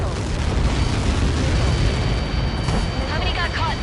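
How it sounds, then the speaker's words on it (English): A massive explosion in the combat flight game Ace Combat 7 produces a loud, sustained roaring rumble that fills the whole stretch without letting up, heavy and continuous rather than a single sharp bang. "How many got caught in that explosion?"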